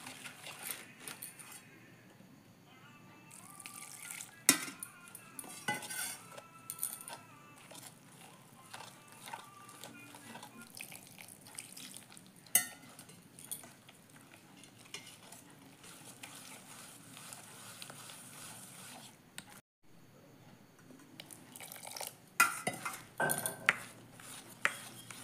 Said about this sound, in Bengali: বেসন আর চাউলের গুঁড়া ভালো করে মিক্স করে নেব